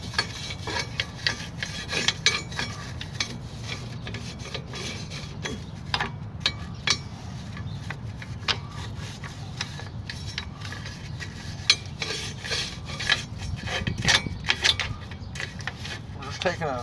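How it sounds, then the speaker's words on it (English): Rear brake parts on a convertible PT Cruiser are scrubbed with a plastic bristle brush, a steady run of rough rasping strokes with scattered metallic clinks, fairly close, while a voice speaks now and then. "just a plastic bristle brush."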